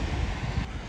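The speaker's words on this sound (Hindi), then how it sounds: "तो भाई बाहर बहुत तेज़ हवा चल रही है" Strong wind blowing outdoors after a day of snowfall, a steady, loud broadband rush with gusty low-end buffeting against the microphone, continuous throughout with no voices.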